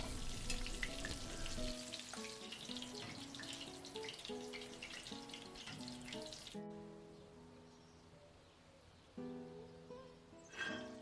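Lamb meatballs frying in plenty of olive oil give a steady close crackle and sizzle for about six seconds, then the frying drops to a softer hiss, with a brief louder burst near the end.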